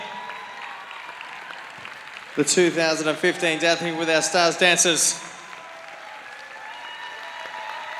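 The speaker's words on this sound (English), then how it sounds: "Ladies and gentlemen, please, big round of applause" A crowd at a Dancing With Our Stars finale applauds the dancers, a steady roar of clapping that carries on beneath an announcer's voice in the middle and continues after it.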